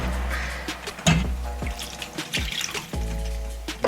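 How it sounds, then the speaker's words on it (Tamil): A little water poured from a tap or vessel into a pan of sautéed moong dal and banana flower for a Tamil kootu, a close, splashy flow that stops and starts with a few clinks of cookware. "கொஞ்சமாக தண்ணி ஊற்றி"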